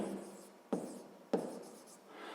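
Pen strokes on notebook paper in a quiet room, a soft continuous scratching broken by two sharper taps as the pen lifts and lands again, close and faint.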